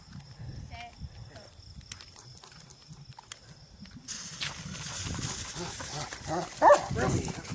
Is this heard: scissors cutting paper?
no